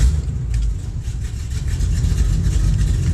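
A 1969 Camaro engine fires up and settles into a steady, loud idle, with a deep low rumble that runs unbroken throughout.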